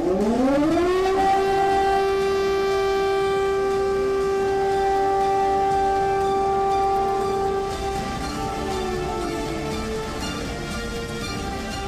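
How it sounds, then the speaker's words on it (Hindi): A loud air raid siren in Ukraine during the Russia-Ukraine war winds up to a steady, sustained wail that holds for several seconds, then dips slightly and continues, with no voices. "यूक्रेन के लगभग 11 शहरों में हवाई हमले के सायरन बज रहे हैं"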